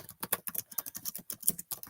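Quick, uneven clatter of typing on a computer keyboard, close and crisp, with irregular bursts of keystrokes and no speech.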